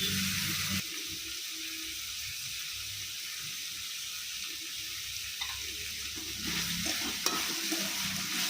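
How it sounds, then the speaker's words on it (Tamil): Tomato and onion sauté in a pan for a horsegram thokku, with a steady sizzle and the scrape of stirring carrying on alone throughout, getting louder near the end. "கொஞ்சம் இந்த தக்காளி வெங்காயம் கொஞ்சம் வதங்கட்டும் பார்க்கலாம்"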